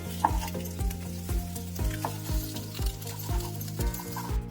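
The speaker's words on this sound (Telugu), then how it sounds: "ఈ విధంగా ముక్కలన్నింటినీ కట్ చేసుకున్నాక 2 నిమిషాలు ఫ్రై చేసుకోవాలండి" Cut pieces fry in a pan with a steady sizzle, while a spatula knocks and scrapes the pan in an even rhythm, close and moderately loud, with a low steady hum underneath. No one speaks.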